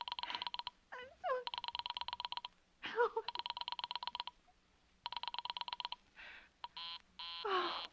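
In an old radio drama, an operator dials a telephone number, heard as fairly faint trains of rapid electronic beeping tones separated by short pauses and brief voices.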